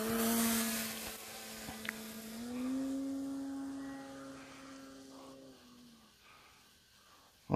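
A Hangar 9 Valiant RC airplane with a Draco electric motor flies overhead with the throttle held steady, giving a sustained tonal whine that shifts in pitch and slowly fades as the plane moves away.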